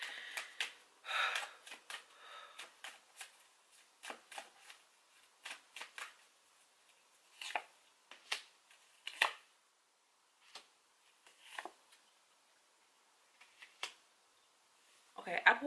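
Tarot cards are shuffled and pulled one by one, giving quiet crisp flicks and riffles in scattered bursts, with soft handling sounds between them.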